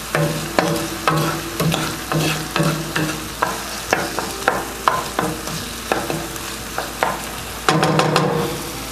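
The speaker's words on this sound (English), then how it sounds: "Give it another stir." A spoon stirs a pot of broth with cherry tomatoes and salt, a steady run of close scraping strokes over a soft simmer, with one louder clatter near the end.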